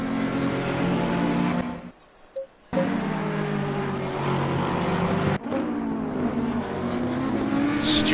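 GT3 race cars, a Lexus and a Ferrari among them, roar around Laguna Seca, a loud sustained engine drone with shifting pitch as they pass, briefly dropping away near two seconds and dipping again around five seconds.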